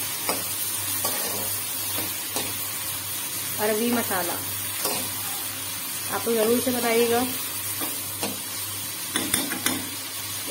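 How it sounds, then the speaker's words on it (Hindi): Onions frying and being stirred in a pan for an arvi masala dish, with a steady low sizzle and intermittent scraping stirs, while someone speaks over the cooking. "फ्राई करते जा रहे हैं हम प्याज को"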